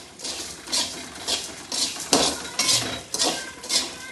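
Ingredients for kochi koya roast in a pan, rattling and clinking in repeated bursts as they are stirred, a close, rhythmic dry clatter with no talking.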